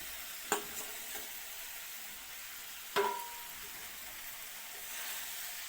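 Fried soybeans sizzle quietly in an onion masala, with a steady low frying hiss and a couple of sharp scrapes from stirring, one near the start and one midway, and no one speaking.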